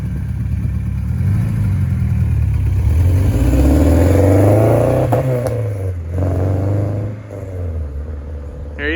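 A K24-swapped 7th-generation car pulls away on its first drive, the engine climbing through a loud accelerating rev, easing off, then building again with rumbling exhaust and clatter.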